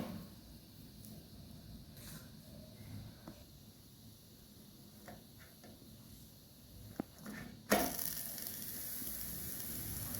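Breakfast flatbread roasting in ghee on a hot pan, with a soft steady sizzle and occasional light taps, then a sudden louder hiss near the end as more ghee hits the pan.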